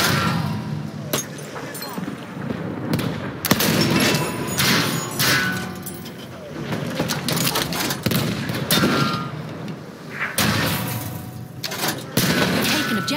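Machine gun fire in Battlefield 1 multiplayer Conquest, with rapid rattling bursts and scattered shots, some close and some distant, over a busy battlefield din with explosions and thuds.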